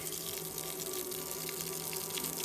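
A bathtub fills with a steady, even rush of tap water running close by, a constant gushing hiss with no voices over it.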